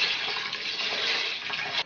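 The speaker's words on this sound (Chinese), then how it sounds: "加入清水" Clean water pours steadily into a pressure cooker's inner pot holding washed red beans, a close, loud, continuous gushing splash with no talk.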